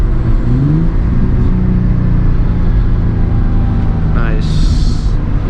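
A bone-stock manual Nissan 350Z engine blips and revs through downshifts while driving on a backroad, with loud continuous cabin engine drone and rising rev sweeps near the end, as a voice talks over it.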